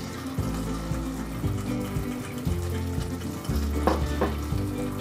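Paneer tikka masala with fresh cream being stirred in a pan, a steady bubbling sizzle with repeated scraping strokes of the spoon, close and clear.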